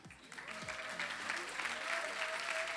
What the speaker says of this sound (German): Ladies and Gentlemen, einen kräftigen Applaus.